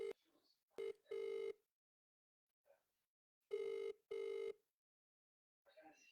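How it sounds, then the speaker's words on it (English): An outgoing phone call ringing out unanswered, with repeated ringback tones in pairs of short bursts separated by silence, fairly faint, and a little background voice noise at the edges. "this is me trying to ring her."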